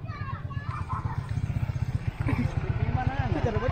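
An ojek motorcycle taxi passes on Kahakitang island in the Sangihe islands. Its faint, pulsing engine drone sits under children's voices and nearby chatter.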